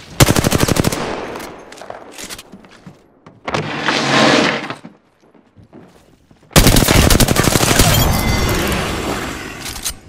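Apex Legends gunfire breaks out in loud rapid bursts, with a long automatic volley at the start, a dense roar in the middle and another sustained burst at the end, separated by near-silent gaps.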